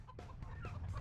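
A grenade-dispensing chicken in the video game Earthworm Jim 3D clucks in several quick, close bursts, faint overall with no talk.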